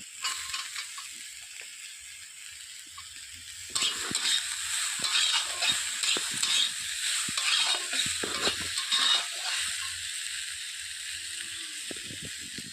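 Frying in a pan while cooking bitter gourd and potato with small fish gives a steady, close sizzle. It grows louder and busier partway through and carries on under occasional stirring clatter, with no talk.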